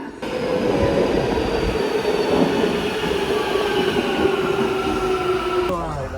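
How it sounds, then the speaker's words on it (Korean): Istanbul metro train running through a tunnel on a line without platform screen doors, a loud steady rumble of wheels and carriage with a whining tone rising and falling throughout, close and continuous. "스크린도어 없는 지하철이 오랜만이네요"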